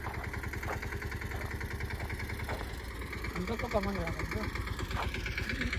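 A mini tractor engine runs steadily nearby, its low, even chugging throb continuing without pause, with a brief voice rising over it midway.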